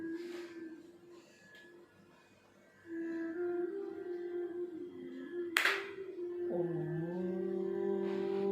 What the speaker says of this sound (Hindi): मेरी ताली के साथ प्रारंभ करना और ताली बजने पर फिर बदल करना।